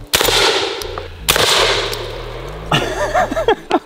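Two loud, sharp shotgun blasts ring out about a second apart, each followed by a fading echo, then voices react afterward.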